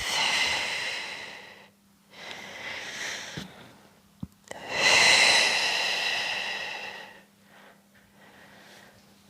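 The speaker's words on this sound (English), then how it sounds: "Inhale and then exhale." Slow, deep breaths during a stretching exercise, a long exhale, a pause, then a louder inhale and a further exhale, close to the microphone, with a couple of faint clicks in between and no talking.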